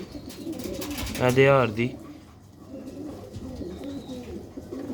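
Pigeons and quail coo in a loft, with one loud, close, rolling coo at the centre and softer cooing around it, while someone speaks briefly.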